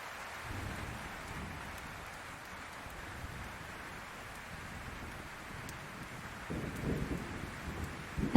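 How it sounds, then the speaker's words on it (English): Steady rain falls over a forest while low rumbling thunder rolls in the distance, swelling louder near the end; no voices, just a continuous wet hiss with deep booming underneath. "the thunder echoes through the forest, causing the log cabin walls to vibrate."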